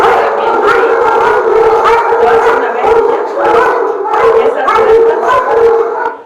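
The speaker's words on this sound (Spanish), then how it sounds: "Estos son perros de trabajo, son perros de la policía." Several police working dogs howl together in a loud, continuous chorus of overlapping wavering cries, close by, with a brief human voice speaking in between.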